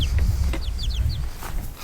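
Breeder chickens kept indoors in a shop on wood shavings, clucking in short overlapping bursts over a steady low rumble of background noise.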